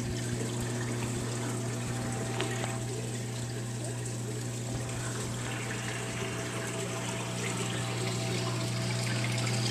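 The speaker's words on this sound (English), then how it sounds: "They got the water mover pump right there." A water mover pump in a tank hums steadily with a constant mechanical drone, while water rushes and gurgles beneath it throughout.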